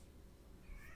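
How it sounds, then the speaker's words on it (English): A house cat meows once, faint and distant in the background, near the end of a short stretch of low room hum. "So I think that's my cat in the background."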